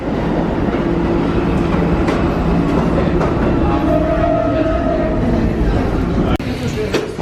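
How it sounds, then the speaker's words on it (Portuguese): A New York subway train pulls into a station, loud continuous rumbling and rattling of rail cars with a faint squeal, while a voice talks over it. "Chegou o metrô agora, mas olha, é o E."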